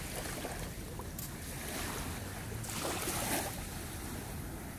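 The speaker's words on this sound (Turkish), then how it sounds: "Dalgalar vuruyor, ne güzel kıyı." Sea waves wash against a Marmara Sea beach shore at Şarköy in a continuous rushing roar, with wind noise over the microphone and no voices.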